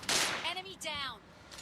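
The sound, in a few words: gunshot headshot in video game PUBG Mobile Lite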